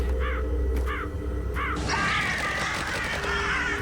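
A crow in a video game gives three evenly spaced caws, followed by a louder burst of rustling game noise.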